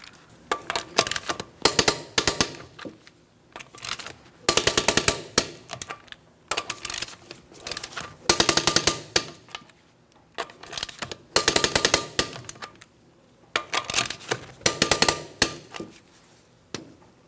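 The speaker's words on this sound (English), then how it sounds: "I'm going to be torquing each one of my lug nuts to that 100 foot-pounds in a crisscross manner" A torque wrench tightens lug nuts to 100 foot-pounds in a crisscross pattern on the front wheel of a 2004–2008 Pontiac Grand Prix, heard as five separate bursts of rapid ratcheting clicks with quiet gaps between, close and without talk.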